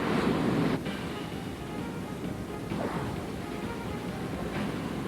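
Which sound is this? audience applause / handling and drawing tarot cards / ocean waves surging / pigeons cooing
ocean waves surging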